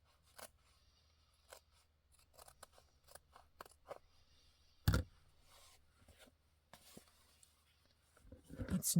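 Scissors snip paper in short, irregular cuts, quiet and close, with a louder rustle midway and handling noise building at the end.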